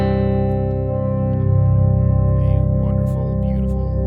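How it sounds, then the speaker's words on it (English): An electric guitar runs through an Atlantic reverb and tap-tempo delay pedal, a sustained chord ringing with thick ambient wash and repeating echoes, loud and steady with a gentle swell in the middle. "Reverb on one side and tap tempo delay on the other."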